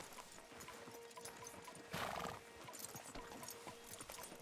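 Horses in Red Dead Redemption 2 walk with faint, rhythmic clip-clopping hooves, and one neighs briefly partway through; the sounds are soft and distant, with no talk.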